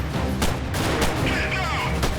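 Gunfire in a Mount and Blade video game battle with first-person shooter elements: several sharp shots spaced across a dense, noisy battle din, with voices mixed into the clamor.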